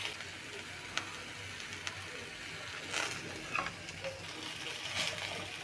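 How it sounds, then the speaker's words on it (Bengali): Eggplants (brinjal) fry in a pan with a faint, steady sizzle, broken by a few light clicks and scrapes, with no one talking. "বেগুনগুলো ভাজা হয়ে যাচ্ছে।"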